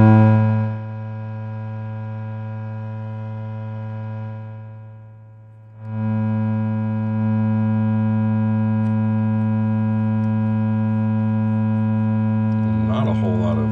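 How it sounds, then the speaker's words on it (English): Krank Nineteen 80 Jr 20-watt amp on its overdrive channel, giving a sustained square-wave distortion drone with strong steady harmonics and hum, briefly dipping then swelling back, with a burst of picked notes near the end. "move over to the overdrive channel where there's plenty of square wave to go around"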